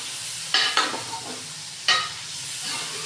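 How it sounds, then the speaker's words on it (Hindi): Chicken fries in a kadhai over low heat, giving a steady close sizzle with a few louder scraping stirs as it is turned, and no talk. "ये देखो किस तरह मैं फ्राई कर रही हूँ।"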